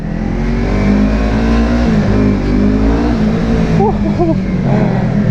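A 2017 Yamaha MT-03 motorcycle engine with a quick shifter drones steadily while riding on a rainy day, rising and dipping in pitch with brief revs as gears shift, loud and close throughout.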